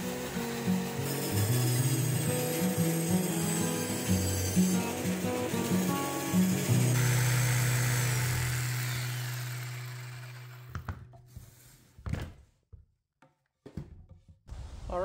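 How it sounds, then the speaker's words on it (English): A bandsaw cuts a side notch into an upright wooden 4x4 post for a garden arched bridge, a steady mechanical whir and blade hum running for about ten seconds before winding down into a few scattered knocks. "mark for my notch, and then I'll clear that out on the bandsaw"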